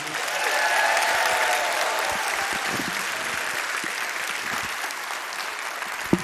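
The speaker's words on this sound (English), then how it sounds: "So our first round of applause goes to the Rock and Pastor Miles." Audience applause fills a hall at a high school football awards gala, a dense, steady clapping that swells early and then holds evenly until it fades at the end.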